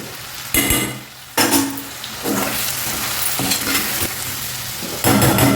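Capsicum and potato curry seasoned with chili powder and coriander powder is stirred in a sizzling pan, with scraping spoon strokes and clinks against the metal coming in bursts over a constant fry hiss.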